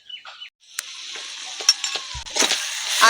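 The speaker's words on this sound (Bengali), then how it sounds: "আদার কাঁচা গন্ধ যাওয়া অবধি খুব ভালোভাবে এটাকে নেড়ে চেড়ে কষিয়ে নিতে হবে" Onion, ginger and garlic paste stir-fried in oil in a pan: soft sizzle under scattered spatula scrapes and clicks, close and moderate, with a brief quiet gap near the start.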